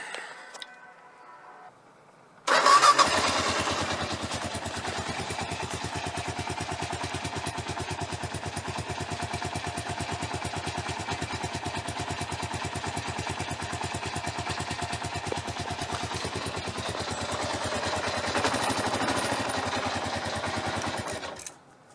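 A motorcycle engine, started with an OTF switchblade-style key, fires up abruptly after a quiet moment. It then settles into a steady, rapid, close idle that chugs evenly for nearly twenty seconds before cutting off.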